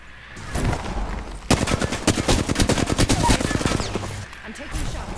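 Rapid bursts of automatic gunfire in a video game shooter rattle out in dense volleys, loud and close, with a player's voice talking over the shooting.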